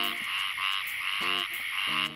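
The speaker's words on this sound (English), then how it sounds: "Listen to the crickets singing all night long." Frogs croak in loud rhythmic bursts at night, nearby pulses repeating about every second against a steady chorus of high calls from further off.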